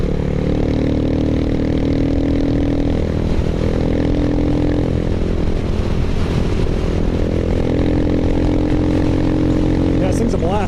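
Buell Blast motorcycle cruising at around 70 on the road, a steady loud engine drone with wind rush running unbroken throughout, with a person talking over it.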